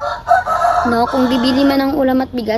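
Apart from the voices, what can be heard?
rooster crowing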